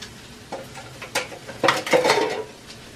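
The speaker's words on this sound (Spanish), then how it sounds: "Lo removemos bien." Rinsed rice being stirred with salt in a cooking pot: a few close metallic scrapes and clinks of a utensil against the pot, growing denser toward the end.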